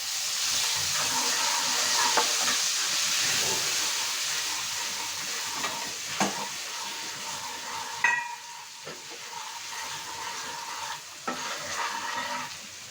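Ground masala with a little salt sautéing in a frying pan for a cucumber curry, giving a steady close sizzle and hiss. Occasional spatula scrapes and knocks against the pan cut through the sizzle, with no voices.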